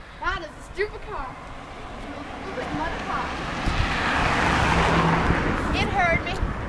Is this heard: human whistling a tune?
no